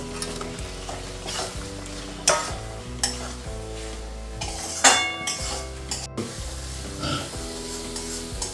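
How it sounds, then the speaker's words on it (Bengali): Potatoes stir-fried in ghee with spices for a rohu fish-roe fritter curry, a steady close sizzle with repeated scraping and stirring strokes and a few louder utensil knocks, no talking. "এবার আমি এর মধ্যে আলুগুলো দিয়ে কষবো"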